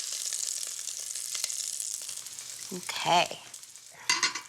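Chunks of lamb browning in a pot for stew give a loud, close, continuous sizzle and crackle, with a brief spoken word near the end.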